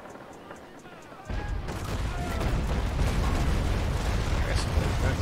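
Ship cannons loose broadsides in a naval battle game. A quiet lull gives way to a sudden heavy roar of massed gunfire that rolls on as a continuous thundering barrage.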